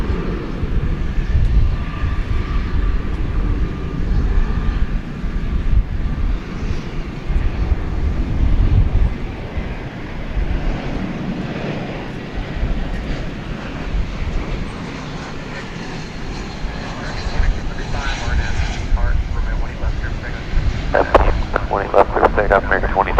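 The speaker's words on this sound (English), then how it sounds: "here comes the flight from Portland" An airliner arriving from Portland at DFW Airport at night makes a steady, distant jet roar that rises and falls over about twenty seconds, mixed with wind.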